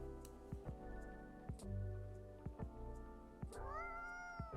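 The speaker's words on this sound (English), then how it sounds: "Aw, a cat!" A cat meows in Coffee Talk 2, giving several soft, close, drawn-out mews that rise at the end, spaced over a quiet tonal background with no talk.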